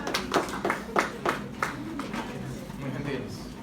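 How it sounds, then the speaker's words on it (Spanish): An audience or studio group claps for a guest on a Spanish-language podcast, a brief burst of scattered claps that fades after a couple of seconds into room noise with a low voice underneath. "Un aplauso, por favor."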